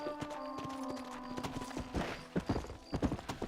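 Horse hooves clip-clop in the Red Dead Redemption video game, a quick uneven patter of hoofbeats at close range layered over steady in-game ambience and music.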